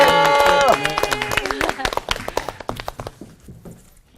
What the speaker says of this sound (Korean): 여러분들이 이렇게 뜨거운 마음으로 정말 박수 치면서 환영하니까 너무 좋습니다